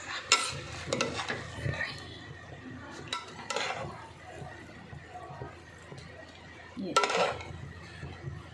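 A pot of freshly cooked biryani is mixed with a spoon, producing a few short, soft scraping and clinking strokes at scattered moments over a quiet background with a faint voice.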